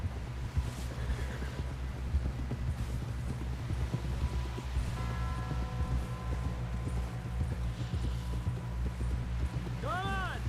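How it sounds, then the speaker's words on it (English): Horse hooves clip-clop steadily as a rider travels on horseback, a continuous rhythmic trot heard close up beneath other layered sounds, with a rising tonal call near the end. "Someone help John down off this horse."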